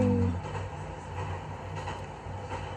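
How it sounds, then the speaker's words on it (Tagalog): Recorded train noise plays for a baby, a steady rumbling rail sound with a low whirring drone, continuous and moderately loud, with a brief murmur at the start. "kaya sinubukan namin itapat yung tunog ng train"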